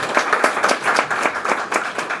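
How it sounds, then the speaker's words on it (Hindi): An audience applauds at a library gathering, a close, lively burst of many hands clapping in a steady patter that holds throughout, with no talking over it. "एक बार जोरदार ताली होनी चाहिए"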